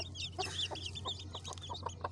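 A broody hen clucks repeatedly in short, close bursts as she is lifted off her newly hatched chicks, over a low steady hum, with soft chirps from the chicks scattered throughout.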